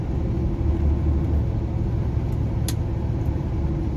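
A vehicle engine drones loudly and steadily from inside the cab as the transmission hunts for a gear and downshifts, with a deep, even rumble and no talking.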